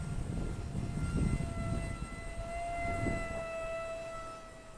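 A Glue & Fly F-22 Raptor micro RC plane passes overhead, its small electric motor giving a thin, steady whine that rises and falls in pitch as it banks, fairly faint and distant with no talk.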